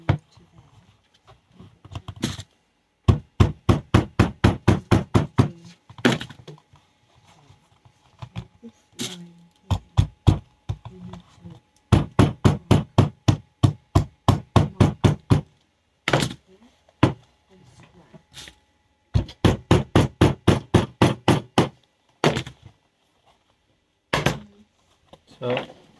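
Bursts of rapid, sharp hammer taps on leather in regular rhythmic volleys, separated by short pauses, close and fairly loud.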